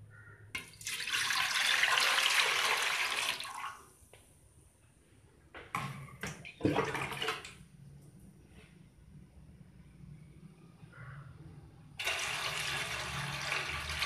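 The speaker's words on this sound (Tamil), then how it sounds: "ரெண்டு சொம்பு அளவுக்கு தண்ணி ஊற்றிக்கலாம்" Water poured into an idli steamer pot in a kitchen, a loud splashing gush lasting a few seconds, followed by clanks of the pot and a second burst of pouring.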